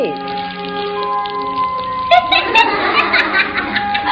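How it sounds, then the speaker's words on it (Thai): Heavy rain produced by cloud seeding starts partway through, a broad, dense patter and hiss that follows a tonal opening, while a voice speaks over it. "ก็จะทำให้มี ปริมาณน้ำฝนมากขึ้น ก็จะทำให้ได้น้ำฝน แบบนี้"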